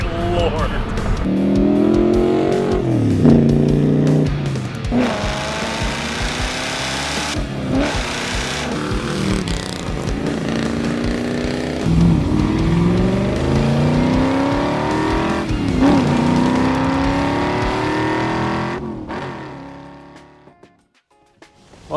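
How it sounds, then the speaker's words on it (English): A 1973 Pontiac Firebird Trans Am V8 running and driving through snow, engine rising and falling through revs with gear changes and strong acceleration pulls, loud and close, with people talking over it before it fades out. "We're just going to start up this Trans Am and put it down to our building"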